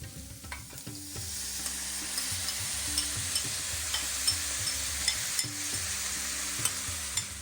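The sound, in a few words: stirring spices and vegetables in a pan with a spatula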